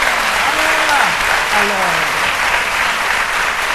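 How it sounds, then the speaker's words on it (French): Crowd applause fills a French-language midday gathering, steady and dense throughout while someone speaks over it. "on applaudit ça, c'est trop bien"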